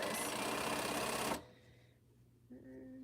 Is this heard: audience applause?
no